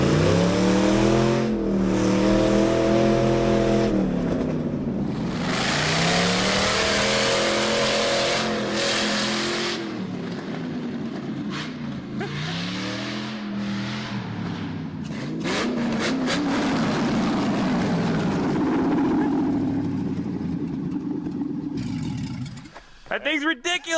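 An LS V8-swapped Toyota engine revs hard and accelerates, loud and close, with rising and falling pitch sweeps through repeated pulls and gear changes, then a sharp cutoff near the end, with people talking over it.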